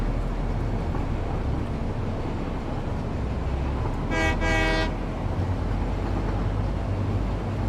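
A train in the factory-building game Satisfactory rumbles along steadily, with a loud, brief two-part horn blast midway over the constant rolling drone.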